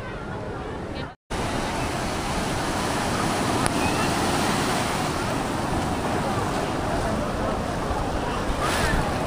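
Ocean surf at Puri beach in Odisha, a steady roar of breaking waves with heavy wind buffeting the microphone, continuous and loud after a brief dropout near the start.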